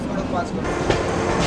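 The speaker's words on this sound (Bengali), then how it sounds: "ট্রেন ছেড়ে দিল এবার ধানবাদ জাংশন।" The Lal Kuan Express pulls out of Dhanbad Junction with a close, continuous rumble of rolling wheels and carriage clatter that stays loud and steady throughout.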